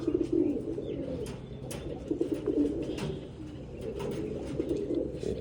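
Pigeons coo steadily and close by in a loft with breeding birds, soft throaty calls repeating under faint chirps and light clatter, with no one talking.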